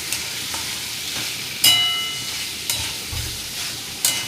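Masala paste for a crab and prawn curry sautés in a pan, giving a low sizzle broken by several sharp metallic spatula knocks.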